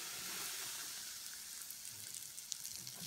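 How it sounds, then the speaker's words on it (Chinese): Hot oil poured into a bowl of plain flour, a soft continuous sizzle and hiss up close, fairly quiet, with small crackles near the end. "加入70毫升烧好的热油"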